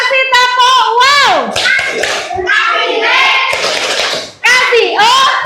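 A classroom of children does a rhythmic clap-and-cheer routine for a group presentation, shouting a drawn-out cheer in unison over sharp, patterned hand claps, loud and close.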